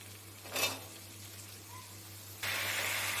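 Green chillies and cut potatoes hit a hot pan, with a brief clatter, then a loud sizzle that starts abruptly and holds steady to the end over a low background hum.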